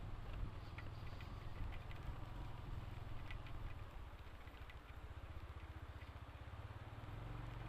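Heavy rain pours down during a motorcycle ride, a dense steady hiss and patter over the low rumble of the running bike engine, continuous throughout with no voices.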